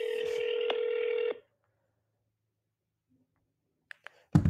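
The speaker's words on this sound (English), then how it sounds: "My phone is ringing. Incoming call." A phone rings with an incoming call, one loud electronic ring tone running steadily for over a second before cutting off into silence, then a few faint clicks and a brief knock at the end.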